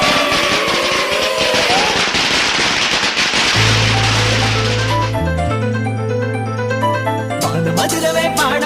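Firecrackers burst for Diwali in a dense, loud crackle of rapid pops during the first few seconds, then musical tones take over.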